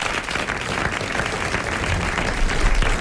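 A studio audience at a French television game show applauds a contestant, a broad continuous roar of clapping holding steady throughout and swelling slightly toward the end.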